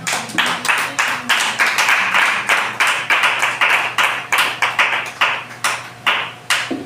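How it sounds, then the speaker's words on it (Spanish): Church congregation clapping rhythmically in unison at a Bible Day celebration, steady sharp claps in a quick repeating beat that fills the room, with no talking over it. "denle un aplauso al Señor."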